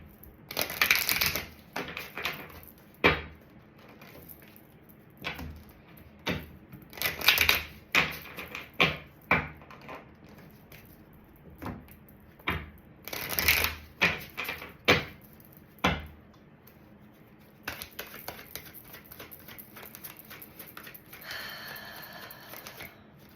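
Tarot cards are shuffled in a series of sharp, crisp riffles and clacks, some in quick bursts, with quieter handling between, close to the microphone and no talking.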